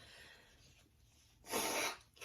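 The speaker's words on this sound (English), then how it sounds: "I am sorry if I'm sneezing a lot" A single sharp sneeze bursts out after a brief quiet breathy lead-in, fairly close, with a faint breath following.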